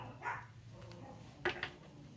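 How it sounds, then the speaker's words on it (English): Dogs barking in a short burst, with one muffled bark early and two sharper, louder barks close together near the end over a quiet room background. "All they do is bark."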